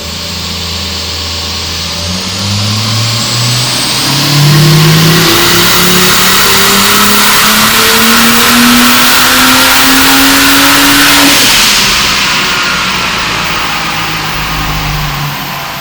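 A turbocharged Ford Falcon, originally naturally aspirated, on a dyno, its engine pulling through a long full-throttle run with rising pitch that peaks loudly, then backs off to a lower drone.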